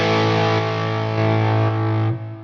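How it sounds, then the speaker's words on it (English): A distorted electric guitar chord rings out through a Fractal Audio FM9 modeler with a volume boost engaged, loud and sustained for about two seconds before it is cut off abruptly. "Then we have a volume boost."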